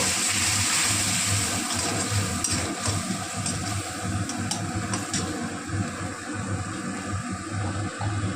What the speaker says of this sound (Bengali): এবার আমি এর মধ্যে দিয়ে দিলাম আর একটু জল।